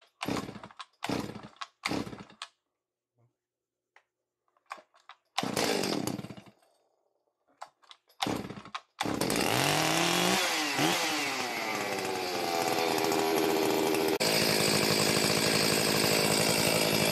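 A rebuilt Stihl MS361 chainsaw takes several sharp pull-start attempts with pauses between them, then fires and settles into a loud, continuous close-up engine roar that revs briefly before holding steady.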